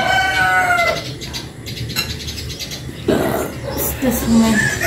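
A newly bought chicken clucks and crows nearby at a home, with loud squawks and calls while people talk over it.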